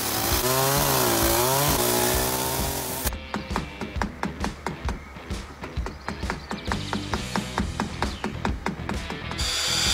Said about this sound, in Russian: Умелец аккуратно работает не только бензопилой